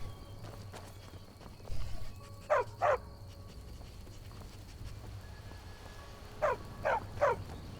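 A dog barks in the video game Skyrim, giving two quick pairs of yelps a few seconds apart over a low, steady background hum, with footsteps and soft movement in between.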